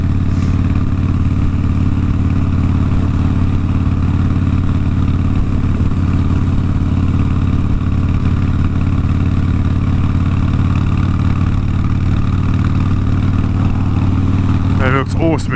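A Harley-Davidson motorcycle engine idles steadily and loudly up close, a low throbbing rumble that holds for about fifteen seconds with a brief clatter near the end.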